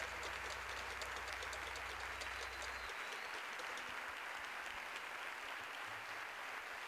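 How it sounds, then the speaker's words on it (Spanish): A concert audience applauds in a steady, distant wash of clapping that stays even throughout, with a low hum underneath for the first few seconds. "Un fuerte aplauso, por favor"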